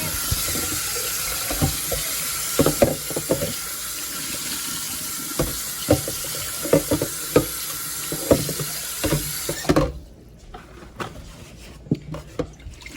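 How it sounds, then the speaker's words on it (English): Tap water runs loudly into a bowl as it is rinsed out, with a steady rushing stream and scattered clunks of the bowl being handled, then the water shuts off, leaving quieter knocks. "We're just going to wash this bowl out really quickly."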